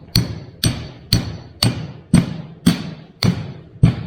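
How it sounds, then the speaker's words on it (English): Nail being hammered in by hand during drain-slope layout work, eight sharp, evenly spaced blows about half a second apart, close and loud with no talking. "Now I drove a nail in."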